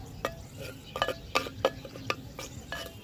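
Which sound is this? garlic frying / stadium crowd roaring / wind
garlic frying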